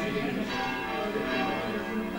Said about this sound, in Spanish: José Luis, que con la campana tenemos que esperar un poco, no te oímos.